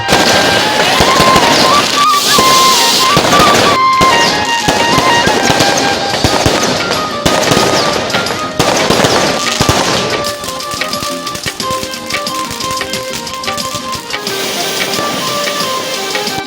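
Pakistan Independence Day fireworks at Man o Salva Hotel, a dense, loud barrage of crackling bursts and pops, rapid and continuous, thinning slightly toward the end.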